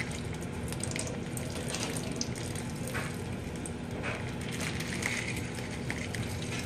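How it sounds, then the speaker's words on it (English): Thawed spinach squeezed by hand over a kitchen sink through a small hole in its packaging, giving a continuous wet, splashing trickle of liquid with squelchy crackles throughout. "You want to squeeze as much of the liquid out as you can."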